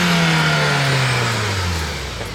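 A 2015 Volkswagen Golf GTI two-door accelerates hard with a little wheel spin, its engine note loud and close, pitch dropping steadily as it pulls away.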